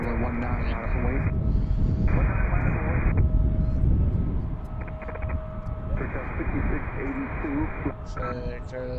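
A CRJ regional jet takes off at Washington DCA airport, its engine roar building and rumbling outdoors at a distance, with people talking over it.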